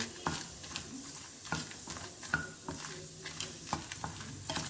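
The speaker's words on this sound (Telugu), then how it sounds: "కొన్ని మాకు సరిపడిన మిరపకాయలు మాత్రం వేసుకొని వేయించుకుంటున్నామండి" Dried red chillies and urad dal fry in a pan with a soft, steady sizzle broken by repeated sharp scrapes and knocks of a spoon stirring them, fairly close, with no voices.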